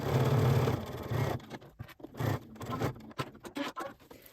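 A sewing machine stitches through a thick quilted potholder at stitch length 3, running in a steady burst at first, then in short uneven spurts with pauses and fabric shuffling, close and fairly quiet.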